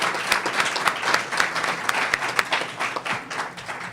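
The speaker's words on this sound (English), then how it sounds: "Please give our candidates a round of applause for participating today." Audience at a school board candidate forum claps for the candidates, a lively burst of many hands at moderate distance with distinct sharp claps standing out, steady for the full few seconds.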